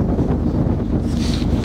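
Strong wind buffets the microphone on an open ferry deck of a Color Line ship, a steady low rumbling roar with no pauses and no voices.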